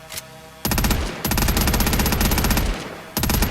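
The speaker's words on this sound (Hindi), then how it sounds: "गन रिलोड पे आ गई हमारी मशीन गन।" A machine gun in a zombie game fires loud, rapid bursts up close, with several long strings of shots separated by brief pauses.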